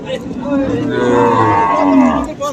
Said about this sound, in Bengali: গিরের বাছুর